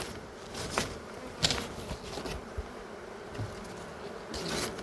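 Dense, steady insect buzzing from many honeybees at a hive, a continuous droning hum with occasional louder passes close by.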